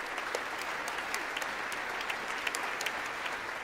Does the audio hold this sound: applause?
yes